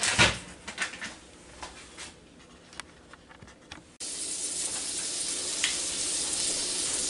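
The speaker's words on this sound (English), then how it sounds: "now my sausage is starting to sizzle a little bit here" Sausage frying in a pan for a homemade gas-station-style sandwich, a soft steady sizzle with a few faint clicks and clatters, the frying noise swelling noticeably louder and denser partway through.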